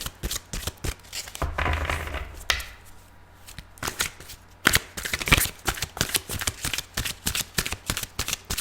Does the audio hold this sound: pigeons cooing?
no